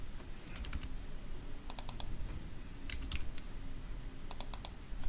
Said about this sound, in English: then we just type some values.